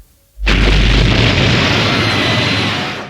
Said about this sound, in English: performs a kamikaze dive on Yoko Kurama, causing an explosion that destroys half the stadium.